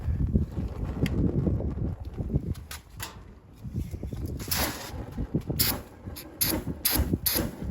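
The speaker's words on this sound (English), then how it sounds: "It's kind of windy out here" Wind gusts buffet the microphone outdoors beside an old barn-find truck with a 235ci six-cylinder engine. Low rumbling bursts come and go, and a few sharper hissing noises are mixed in.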